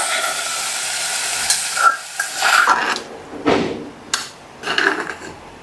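Onions frying and browning in a hot pan for pundi and kori gassi, a steady sizzling hiss with intermittent louder crackles and stirring scrapes, close and without talk.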